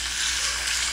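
Pork hitting a pan of fried garlic and onions, a brief, steady, bright sizzle, close and even, with no voices.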